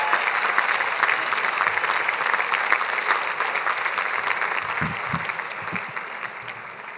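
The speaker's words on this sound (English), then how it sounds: "Please give a warm round of applause and welcome Honorable Mark Ridley-Thomas" A commencement audience at a USC Price School ceremony gives a warm round of applause, a broad steady roar of many hands clapping that holds for several seconds and slowly tapers.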